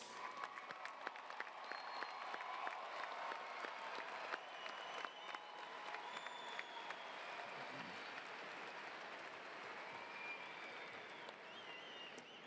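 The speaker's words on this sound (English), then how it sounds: "Let's have one more round of applause for our graduates." At an evening commencement ceremony, a large audience applauds the graduates with sustained, steady clapping. It is heard from a distance in a big hall, with faint crowd murmur and a few scattered cheers mixed in.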